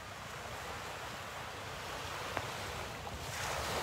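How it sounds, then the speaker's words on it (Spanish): Ocean waves wash continuously beside a collapsed building in Miami, a broad steady surf roar mixed with wind buffeting the microphone, growing slightly louder toward the end. "Mirá, acá está el mar."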